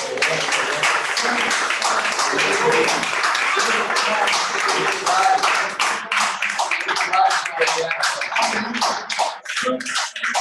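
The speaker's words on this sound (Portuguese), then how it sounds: "Você pode dar um forte aplauso." A congregation applauding during a Sunday celebration service, strong continuous clapping that turns into scattered claps toward the end, with voices mixed in.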